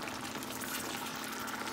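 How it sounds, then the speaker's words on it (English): Gravy thickened with almond flour bubbling steadily in a pot for a keto cottage pie, a continuous close, even hiss of simmering liquid without talk. "really got this boiling now"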